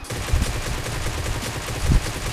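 Gunfire in the mobile battle royale game PUBG Mobile, a dense, steady stream of shots with two heavier bursts standing out, loud and close throughout the short stretch.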